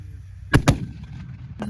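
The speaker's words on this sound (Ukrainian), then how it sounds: "Постріл!" Two heavy booming artillery gun shots fired in quick succession, then a third distant thud, loud and close against quiet background.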